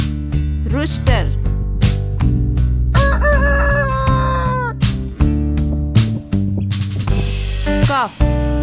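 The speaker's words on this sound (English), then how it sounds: "rooster" Rooster crowing loudly and close, several drawn-out calls set against a steady tonal musical backing with sharp rhythmic hits.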